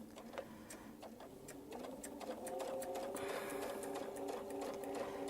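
A sewing machine stitches steadily along a line on a small Baptist fan quilt block, its rapid mechanical whir rising after a slow start, with light ticking clicks throughout, close and quiet.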